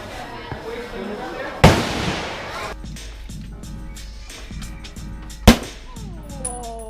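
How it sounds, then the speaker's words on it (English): M1 Garand rifle fired at an outdoor shooting range, two sharp loud reports several seconds apart, each with a short rumbling tail, amid background chatter and range noise. "gonna try and shoot an M1 Garand"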